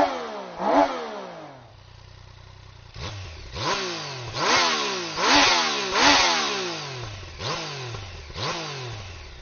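A Yamaha Niken three-wheeled motorcycle engine cranks and catches, then revs repeatedly in sharp rising and falling bursts, loud and close with no talking.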